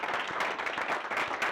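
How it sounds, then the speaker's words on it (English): A room full of people at a real estate team meeting claps in welcome, a dense, steady patter of applause at moderate volume throughout the short stretch. "give these guys a big welcome and a round of applause"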